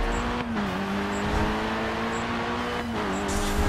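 Volkswagen engine in the racing game GRID 2, a steady loud revving drone with a sustained engine tone that dips and climbs slightly between gear changes, continuous throughout with no talking.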